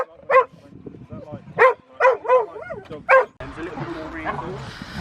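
Several excited dogs bark and yip in sharp bursts at close range outdoors, with whimpering between, followed by a wash of broadband outdoor noise near the end.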